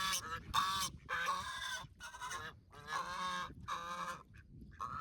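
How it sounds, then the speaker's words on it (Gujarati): Several geese honking loudly and close by in a village setting near water, calls coming in repeated bursts with short gaps between them. "તો હંસ કને કોઈ વ્યક્તિ આવે એટલે આવો અવાજ કરે છે."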